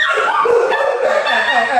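Several dogs bark, yip and whimper close by in a loud, continuous jumble of high, whiny calls, with a voice mixed in.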